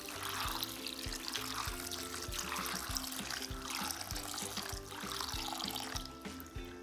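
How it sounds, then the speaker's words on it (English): Pea sprouts being rinsed in a bowl of water, with a steady close trickle and splashing throughout, under low rhythmic thumping from a background beat. "And then we're just gonna rinse it in water."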